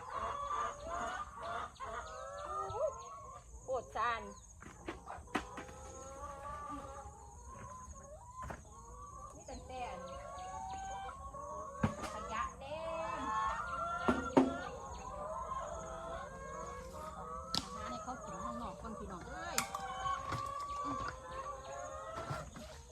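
Chickens just let out of their coop cluck busily while roosters crow repeatedly, a lively farmyard chorus at moderate distance with scattered sharp clatters.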